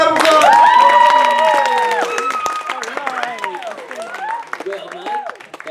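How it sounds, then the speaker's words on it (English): A high school Comedy Sportz improv audience at Windward claps and cheers for the blue team, with loud overlapping shouts and voices on top of the applause that fade gradually over several seconds. "Give blue team a round of applause."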